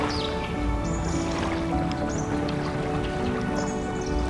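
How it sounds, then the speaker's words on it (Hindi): Soft, steady patter of light rain in Ninh Binh, Vietnam, with scattered drips on water, a constant gentle hiss and no voices. "थोड़ी बहुत बारिश अभी भी शुरू थी"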